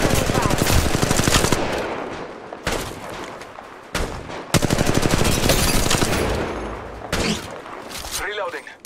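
Rapid automatic gunfire in the mobile shooter Apex Legends Mobile, loud close bursts of machine-gun fire separated by brief pauses, with game voice lines mixed in among the shots.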